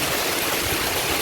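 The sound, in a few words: heavy rain pouring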